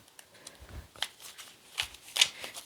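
Papers are handled and rustled by hand in a few quick, close bursts of crinkling and shuffling, fairly faint and uneven, with no talk.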